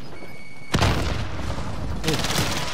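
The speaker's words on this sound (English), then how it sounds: "Oh, grenade" A grenade blast in a first-person shooter video game, a sudden loud broadband boom that rumbles on for about a second, followed by a second burst of gunfire-like explosions, heard under excited players' voices.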